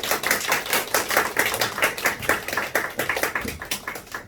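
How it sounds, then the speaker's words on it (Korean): A church youth-service audience claps to welcome a pastor, a rapid, uneven patter of hand claps from a moderate-sized group, sustained and fairly close without voices. "큰 박수로 환영하겠습니다"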